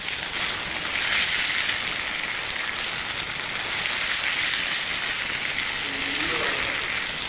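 Onion and tomato fry in hot oil for South Indian sambar, a continuous bright sizzle and crackle that holds steady at close range throughout, with no voices over it.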